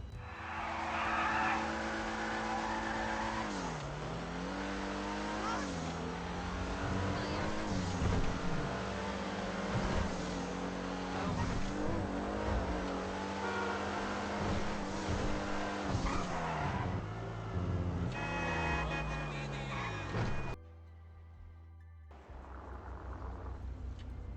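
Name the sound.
Dewbauchee Specter sports car driving in GTA Online video game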